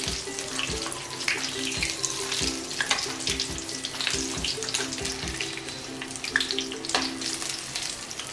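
Potato and onion snack balls deep-frying in oil until browned, giving a steady close bubbling sizzle with occasional scrapes and taps from turning them, continuous with no talk.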